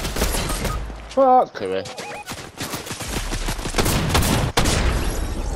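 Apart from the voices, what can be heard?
drum gun firing in Fortnite, a video game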